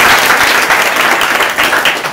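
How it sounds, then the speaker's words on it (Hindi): Students in a mobile-repair training class break into a burst of applause, a dense, loud clatter of many hands close by that runs throughout with no gaps. "क्या बात है, ताली बजा।"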